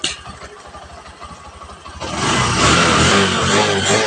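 A motorcycle engine, repaired after nearly two years of not running, idles with a rapid, even putter for two seconds. It then revs up into a loud, sustained roar close to the microphone.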